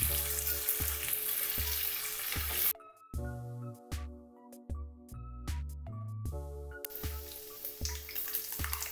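Curry leaves, onions and nuts frying in hot oil for coriander rice, a loud close sizzle with rhythmic stirring knocks, the sizzle briefly dropping away mid-way while a melodic tone plays and spoon taps continue.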